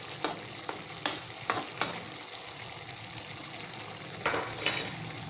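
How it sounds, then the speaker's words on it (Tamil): A spatula stirs a cabbage, carrot and bean poriyal in a pan, giving several scraping knocks against a soft steady sizzle, then a pause and a few more stirs. "இடையில இடையில நல்லா மிக்ஸ் பண்ணி விட்டுக்கலாம்"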